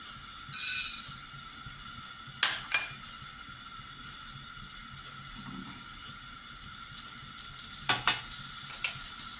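Whole coriander seeds dropped into a hot kadhai of oil sizzle softly for a traditional Goan Saraswat dish, a low steady frying hiss broken by several sharp clinks of a spoon against the metal pan, close and quiet, with no talking.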